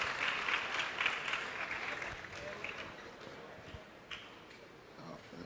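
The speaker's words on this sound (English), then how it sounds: "Another hand of applause." Audience applause at a Ghanaian national farmers' awards ceremony, a burst of clapping that fades over several seconds with a few scattered claps near the end, with a voice faintly underneath.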